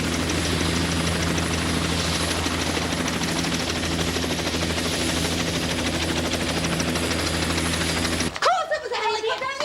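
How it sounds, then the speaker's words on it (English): A helicopter's rotor and engine drone loudly and steadily overhead for several seconds, then cut away as voices talk. "helicopters drop in here all the time"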